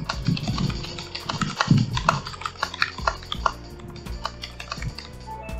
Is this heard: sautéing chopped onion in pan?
no